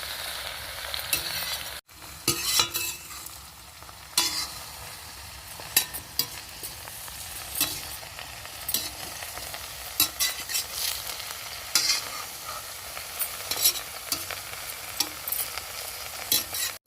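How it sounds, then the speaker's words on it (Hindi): Eggplant and potato fry in oil in a pan while a spoon stirs them, with a steady soft sizzle under repeated scraping strokes, close and alone. "तो इसको इस तरह से चलाएंगे कि जो तेल है, जो आलू है, वो पूरे बैगन में अच्छे से मिल जाए।"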